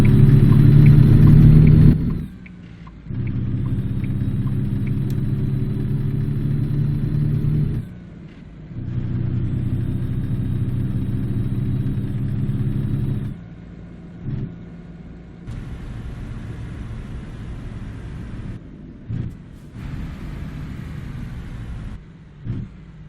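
Heavy truck engine in American Truck Simulator, a loud steady low rumble that rises and drops with gear changes and revving, cutting out briefly between pulls and settling to a quieter idle-like drone toward the end.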